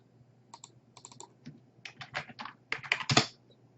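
Fingers type on a computer keyboard in short, uneven bursts of crisp key clicks, close and quiet, with a slightly louder cluster of taps near the end.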